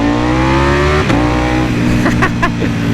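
A Ducati Panigale V4 Speciale motorcycle engine pulls hard under acceleration, its strong rising note dropping in pitch at a quickshifter upshift near the one-second mark and climbing again, with quick bursts of further shifts toward the end.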